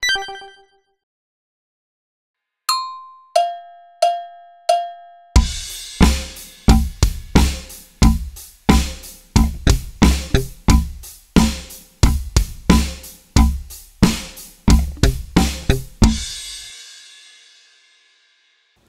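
Slap bass practice phrase with ghost notes, a few spaced plucked tones followed by a fast rhythmic run of percussive thumb slaps and muted ghost notes, clear and close, ringing out at the end.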